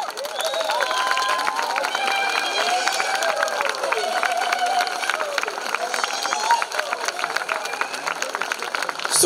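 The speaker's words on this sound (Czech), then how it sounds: "já prosím pro ně potlesk" An audience at a folk recruiting-dance contest greets fifteen young contestants on stage with sustained clapping and cheering, a dense, even wash of applause with voices mixed in throughout.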